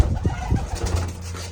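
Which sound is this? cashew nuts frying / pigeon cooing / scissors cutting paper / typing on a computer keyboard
pigeon cooing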